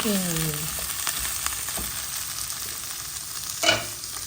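Meat being stirred in a frying pan for palabok, a low continuous sizzle with a few scraping strokes and a brief louder clatter near the end, no talk.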